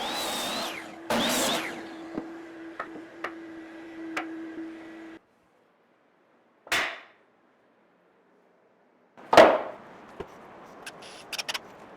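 Cutting 32-inch 2x4 lumber for sawhorses: a saw runs for a few seconds with sharp ticks and knocks, then stops, followed by short isolated bursts and clatter separated by silence.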